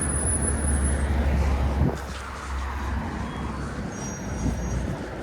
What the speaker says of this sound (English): We got a training bus here too.